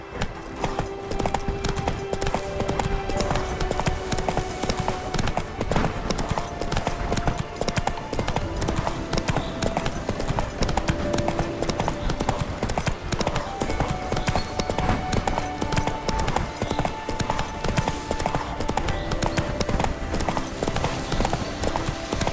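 Roach, the horse in The Witcher 3, trots steadily in a rhythmic clip-clop of hooves that continues without a break, with a soft game score playing beneath.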